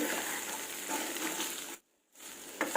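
Potato pieces for aloo fry sizzling in a pan, a steady hissing fry that cuts out briefly to silence before resuming with a few louder crackles.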